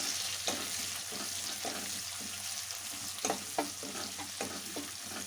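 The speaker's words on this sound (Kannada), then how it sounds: "ಈರುಳ್ಳಿ ಸ್ವಲ್ಪ ಚೆನ್ನಾಗಿ ಫ್ರೈ ಆಗಲಿ." Onions and curry leaves fry in a pan for radish curry, a steady close sizzle with light stirring scrapes and clicks throughout.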